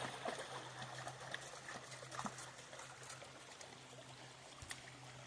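Shallow creek water trickles and burbles steadily close by during a hike upstream, a continuous watery wash with a low hum underneath and scattered small splashes.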